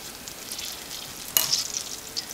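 Half a stick of butter sizzling in a pan before flour goes in for a roux, a steady soft hiss that swells into a brighter crackle midway and stays close and continuous.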